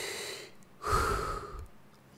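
A voice imitating human breathing, one drawn-out inhale followed by a longer, louder exhale, close and alone without words.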